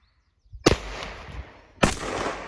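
Two sharp rifle shots ring out at an outdoor shooting range, the second about a second after the first, each loud and close with a long echoing tail, no talk.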